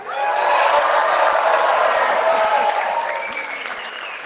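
Rally crowd in North York cheering and applauding for Conservative leader Pierre Poilievre, a loud, dense, sustained wash of clapping and cheers that fades slightly toward the end.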